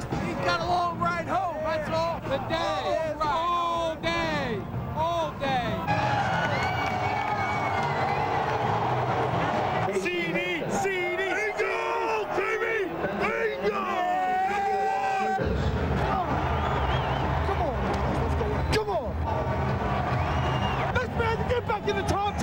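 A large football crowd of about 64,000 fills Paul Brown Stadium for a Steelers–Bengals game, a constant loud roar of babble and cheering with swells of excitement and whistles throughout.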